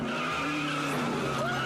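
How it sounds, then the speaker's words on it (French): Cartoon spy car tearing away with a sustained tire screech, a loud skidding squeal with whining engine tones that runs through the whole short burst, no talking. "Vite, sautons dans notre voiture d'espion cool et filons d'ici."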